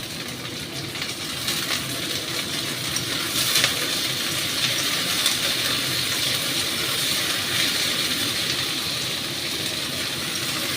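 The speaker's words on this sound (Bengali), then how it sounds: "এবার আমি ঢ্যাঁড়সটা ভাজতে দিয়ে দিচ্ছি।" Okra sizzles steadily in a pan over high flame, a continuous crackling frying hiss with a faint watery spatter running evenly throughout, no voices.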